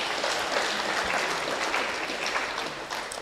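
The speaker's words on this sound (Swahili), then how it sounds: "Tumpigie Bwana makofi." A church congregation at a Kikuyu Trinity Sunday service claps steadily, giving a dense, even wash of applause that holds at the same loudness from start to finish.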